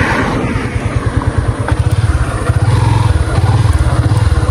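A Yamaha FZ V3 motorcycle rides along a road, its engine giving a loud, steady pulsing drone that rises into a quicker throb partway through, with no talk over it.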